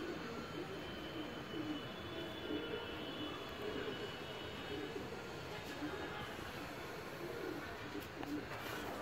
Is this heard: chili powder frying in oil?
no